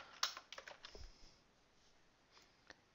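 Quiet computer-keyboard typing: a quick burst of light key clicks, then a pause and a couple of isolated taps, faint and close.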